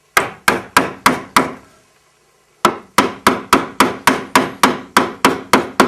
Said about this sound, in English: Now when you're cutting a mortise, you work from one end to the other